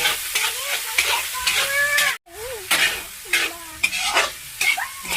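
Ingredients being sautéed in a pan give a loud, close sizzle broken by stirring scrapes and a brief drop to silence midway, with tonal squeaks from the pan.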